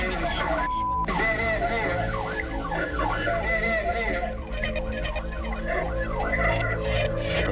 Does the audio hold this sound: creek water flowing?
no